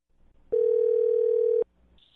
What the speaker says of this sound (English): I'll dial her phone number and try one more time